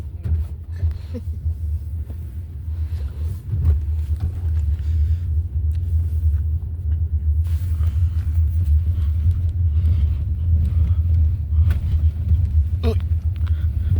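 A car driving over bumps in the road. A steady low rumble fills the cabin throughout, broken by a few soft thumps, with no talk.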